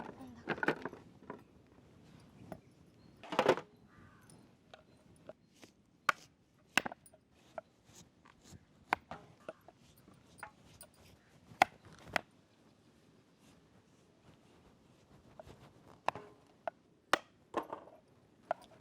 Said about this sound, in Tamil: சீக்கிரம் கட் பண்ணுங்க